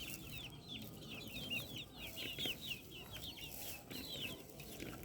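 Chickens being fed in the afternoon give a steady run of quick, close clucks over a soft rustling background, with the calls bunching into busy bursts throughout.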